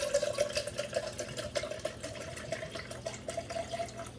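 Bulleit bourbon poured in a steady, close trickle into a measuring jigger, a thin liquid stream running without pause for about four seconds, with no talking.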